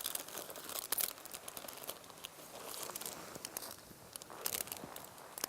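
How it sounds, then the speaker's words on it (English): Foil crinkling as it is unwrapped from an air and water sampling field blank, with faint irregular close crackles and rustles spread over several seconds. "And then you would just unwrap the foil."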